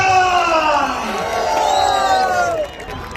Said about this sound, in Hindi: Come on ladies and gentleman, जोरदार तालियां फॉर सलमान खान।